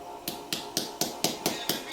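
Metal eyelets being hammered together: eight sharp, evenly spaced taps about a quarter second apart, close and crisp, with no talking.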